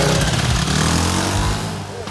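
A refurbished Yamaha 9.9 outboard motor runs close by with a steady, loud mechanical drone that eases off slightly toward the end, and talk can be heard over it.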